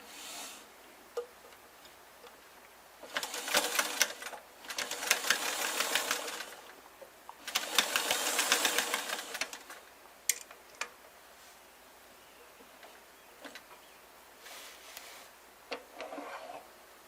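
A sewing machine runs a straight line of stitching on Dickies work pants, with two steady bursts of rapid mechanical whirring and clatter broken by short pauses and a few faint clicks.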